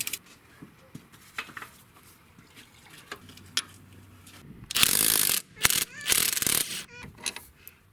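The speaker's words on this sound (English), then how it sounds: "I've got a 13mm socket, and I'm going to go ahead and remove it." A 13mm socket on a ratchet working the steering intermediate shaft bolt on a Jeep JK, giving a few quiet clicks early on and then several louder bursts of rapid ratcheting near the end.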